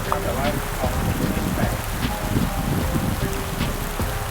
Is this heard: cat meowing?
no